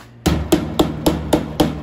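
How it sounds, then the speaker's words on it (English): Six evenly spaced hammer blows on a metal edge across a wooden board, bending and flattening it straight while building a garden compost sifter; sharp, close strikes about a quarter second apart. "took a hammer and bent it up so it was straight all the way across"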